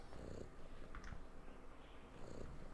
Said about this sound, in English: Motherfucker got cats and all. Fucking cat lady in this motherfucker, Slim.